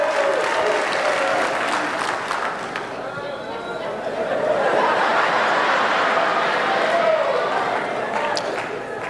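A live comedy audience of married people claps and cheers at a stand-up show, steady and loud throughout with scattered laughter mixed in.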